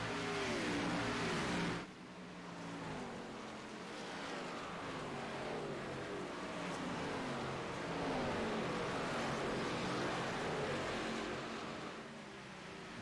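Race cars at Nashville: a continuous droning engine roar from several cars, rising and falling gently in pitch, steady and moderately loud, with a brief dip early on and no talk.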